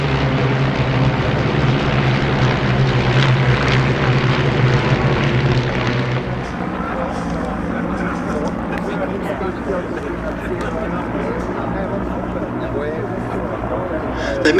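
A propeller aircraft flies an airshow display at Duxford, its steady droning engine loud at first, then fading to a more distant hum while a voice talks over it.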